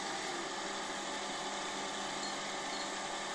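A power drill whines continuously, loud and close, a steady high-pitched grinding as successively larger bits bore through 1.5 mm steel tube without pause.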